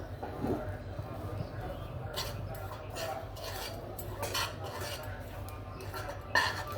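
Semolina dry-roasting in a pan while being stirred, giving faint scraping and soft clinks of a utensil against the pan over a steady low background.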